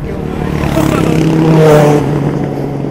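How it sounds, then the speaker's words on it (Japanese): An engine passing near a dam on a mountain road, a loud rising and falling motor hum that swells toward the middle and eases off, with people chatting over it. "エンジンの音。"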